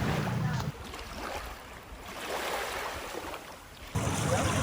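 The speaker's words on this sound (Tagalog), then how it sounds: "Napakaganda rin ng simoy ng hangin at ang tunog ng alon." Sea waves wash onto a beach while a breeze blows, a steady broadband rush that swells and eases, with wind buffeting the microphone at the start and end.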